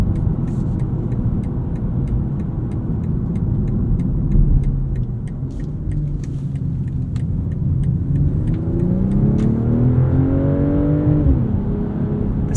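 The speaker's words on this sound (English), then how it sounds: "Exhaust sounds really nice in sport mode." A 2023 BMW M340i xDrive with its exhaust in sport mode pulls hard from inside the cabin, a steady engine rumble rising in pitch through a long acceleration, with light clicks and interior noise over it.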